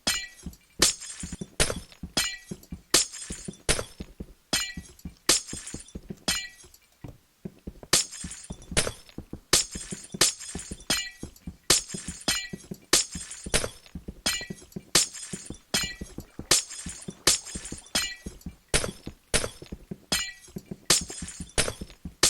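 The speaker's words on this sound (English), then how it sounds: "let's go ahead and just break all these glass blocks" Glass blocks shatter one after another in Minecraft, a rapid, loud series of bright crashing breaks in quick rhythm with only a brief lull partway through.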